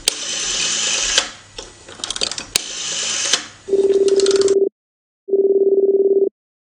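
Two steady, evenly held electronic tones sound while a phone call is placed, following a stretch of busier handling and clatter; each tone lasts about a second and is separated by a short silence, clear and close.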